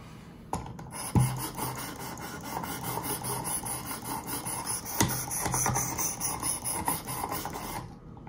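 A knife blade is drawn across the abrasive of a Work Sharp Precision Adjust sharpener, giving a steady, gritty rasping scrape with a couple of sharp clicks, close and fairly quiet, with no talk.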